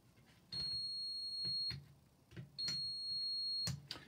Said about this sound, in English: So we know the buzzer works.